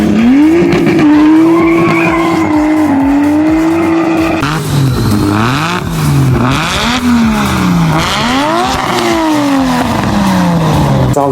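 A high-revving Nissan R34 GT-T inline-six engine screams loudly, pitch rising and falling through gear changes, with tires squealing as it races past.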